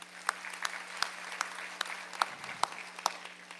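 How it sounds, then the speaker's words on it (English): Sparse, distinct handclaps at a school board meeting, a small audience applauding with individual sharp claps standing out over a faint steady hum. "Round of applause for her."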